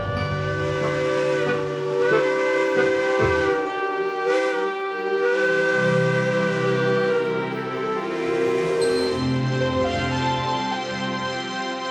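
Old West steam locomotive sounding its whistle over hissing steam, a sustained loud chord-like tone wavering in pitch for several seconds with steady hiss beneath, no voices.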